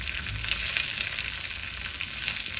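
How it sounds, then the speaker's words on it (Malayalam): Onions, dried red chili and curry leaves fry in hot oil for a ladies finger tamarind curry, giving a steady, dense sizzle and crackle that runs unbroken and fairly close throughout. "ഈ ഉള്ളിയൊക്കെ ഒന്ന് നന്നായിട്ടൊന്ന് മൂക്കണം"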